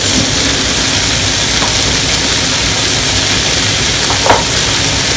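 Spring onions and other vegetables stir-frying in a pan for a beef stir fry, a steady broad sizzle held throughout at close range with one brief clatter near the end, no talking.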